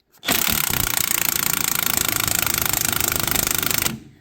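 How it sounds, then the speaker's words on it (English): An impact wrench hammers on a 9/16 shock absorber nut of a first-generation Dodge Dakota, one loud, continuous rapid rattling burst lasting about four seconds, close up, with no talk. "Let me get this impact on there. This is a 9/16 nut up here."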